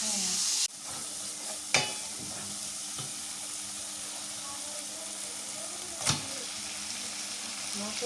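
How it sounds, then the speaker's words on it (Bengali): Spices being sautéed and stirred in a pan for a meat dish during a night-time home cooking session, a steady sizzle and hiss with a few sharp knocks of the spoon against the pan, fairly close and continuous. "মশলা কষানো হয়ে গেছে, মাংসটা দিয়ে আর কষানো।"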